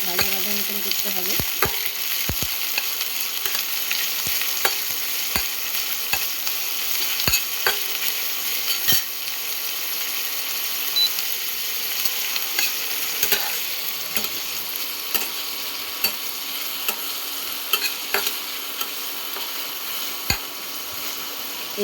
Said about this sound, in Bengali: এই পেঁয়াজটা হালকা একটু নেড়ে নিলাম